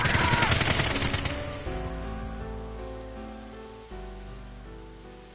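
Gunfire erupts in AI: The Somnium Files nirvana Initiative, a dense rattling burst of shots for the first second or so, then giving way to a sustained musical drone that carries on underneath.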